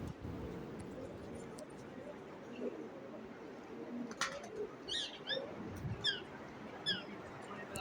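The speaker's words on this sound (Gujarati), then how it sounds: "કબૂતર ઉપર બેઠા" Pigeons perched inside the Bijli Baru cave give soft, repeated coos and a few chirps, heard faintly over a low, echoing rumble of cave ambience.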